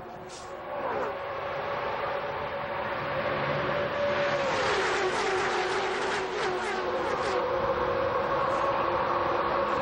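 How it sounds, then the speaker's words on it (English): NASCAR stock cars racing at the 2001 Pepsi 400, a loud continuous engine roar with pitch sweeping up and down as cars pass close, sustained at high volume throughout. "Michael Waltrip on the inside, trying to take that lead away from Kevin Harvick"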